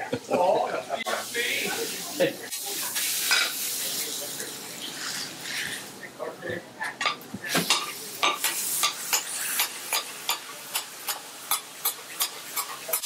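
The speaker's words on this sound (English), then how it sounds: "Chopping up the steak." Metal spatula chopping a real steak patty on a hot sizzling grill, steady frying hiss with a run of sharp rhythmic scraping taps growing more regular toward the end, with speech heard over it.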